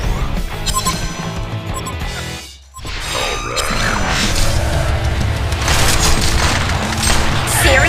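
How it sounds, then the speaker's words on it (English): A Hellborn barracks collapsing in the Heroes of Newerth game, a heavy booming crash and rumble amid dense battle effects, clashing hits and crackling spell sounds, loud and continuous with a brief dip in the middle. "A Hellborn barracks has been destroyed."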